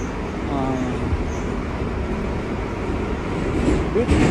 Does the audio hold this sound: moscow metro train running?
yes